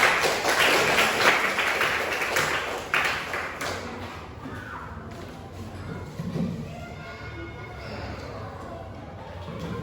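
A classroom audience claps for a student group after its presentation, a brief burst of applause that quickly thins out and dies away into quiet room noise and murmuring voices.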